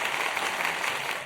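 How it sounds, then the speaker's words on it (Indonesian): Brief applause during a podcast-style talk show, a soft continuous hiss of clapping, fairly even and muffled, lasting only a moment. "Kita tambahin tepuk tangan dulu."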